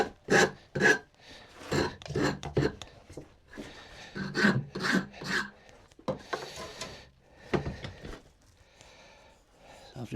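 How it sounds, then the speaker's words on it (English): A hand rasp filing the sawn corners off wooden workbench parts, with bursts of loud scraping strokes in quick runs, close by and fairly strong, separated by short pauses. "I've just rasped off the corners."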